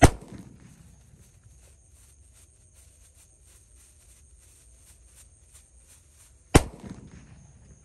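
Two sharp, loud disco firecracker bangs several seconds apart at night, each with a short echoing tail, separated by faint crackling and quiet background noise.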